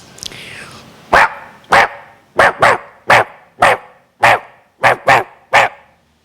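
A voice imitates a small Shih Tzu dog barking, giving nine sharp, evenly spaced yaps close to the microphone after a brief quiet lead-in.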